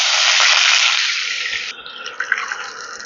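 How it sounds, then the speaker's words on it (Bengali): Two cups of water pour into a cooking pan, a bright rushing splash that holds steady then thins and ends, leaving a few softer drips and bubbling sounds nearby. "এবারে আমি দিয়ে দিচ্ছি 2 কাপ পরিমাণ জল"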